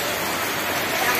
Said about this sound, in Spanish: Porque está lloviendo duro.